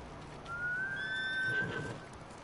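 A single horse whinny in Ghost of Tsushima rises and trails off over about a second, moderately loud against a soft game background hum.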